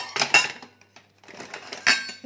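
Small steel kitchen bowls and spice tins clink and rattle as they are handled, in two short bursts of bright metallic chinks separated by a brief pause.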